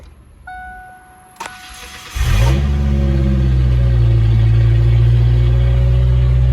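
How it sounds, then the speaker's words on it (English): A 1993 Ford Ranger 2.3L engine cranks and fires with a brief starter whir, then catches and settles into a loud, steady running drone. Faint clicks and chimes come just before the start. "All right, that's a good start."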